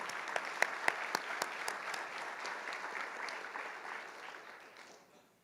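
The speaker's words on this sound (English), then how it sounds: "So a great warm applause for the Cocina." A warm round of audience applause at a student chef cook-off ceremony, a steady patter of many hands heard from some distance that gradually fades away.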